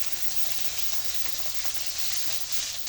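Dried dilis (anchovies) fry in a pan of hot oil, a steady bright sizzle and crackle filling the kitchen, close and even with no talk.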